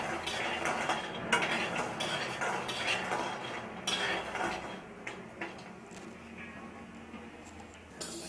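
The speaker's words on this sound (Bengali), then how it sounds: "বড়িগুলো লো ফ্লেমে ভাজতে হবে।" Lentil dumplings (bori) fry in oil over a low flame, giving a soft continuous sizzle with occasional clinks and scrapes of a utensil against the pan, fairly quiet and close.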